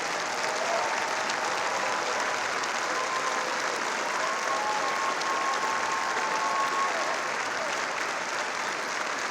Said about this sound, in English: Princess, you deserve that standing ovation that you're receiving.